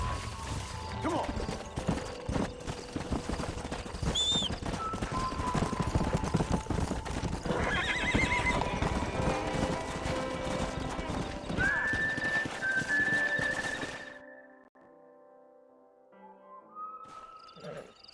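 Horse hooves clip-clop steadily with a few whinnies in Red Dead Redemption gameplay on PS5, loud and close over a continuous game soundscape of wind and music, fading out near the end.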